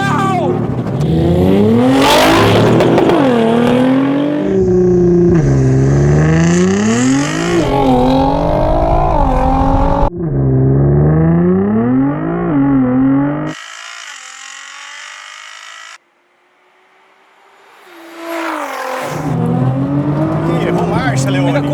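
A Mercedes-AMG GT R and a Nissan GT-R accelerate hard in a drag race, engines loud and near, rising through repeated gear changes, with a pause before another car roars up again.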